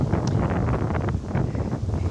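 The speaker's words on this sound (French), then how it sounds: "Alors je sais qu'il y a du vent, je vais essayer de parler au plus proche du micro." Outdoor wind beside a young tree buffets the microphone in a continuous low rumbling roar with gusty surges, close and fairly loud, no speech.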